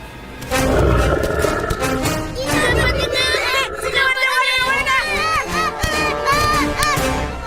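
Loud, continuous roaring from a lion amid a chaotic din of animal cries and shrill, wavering calls that rise and fall throughout.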